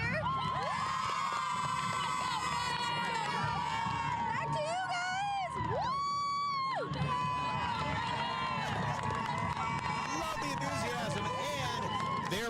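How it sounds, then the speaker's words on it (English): A large crowd at a football game halftime show cheers and shouts loudly, with children's voices and whoops carrying throughout in a sustained roar. "Can you give me your best cheer?"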